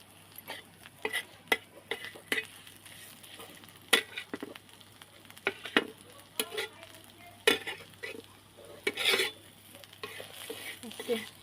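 A spoon stirs crushed peanuts into green chili thecha in a pan, scraping and tapping in irregular clusters of sharp clicks over a faint sizzle, fairly quiet and close.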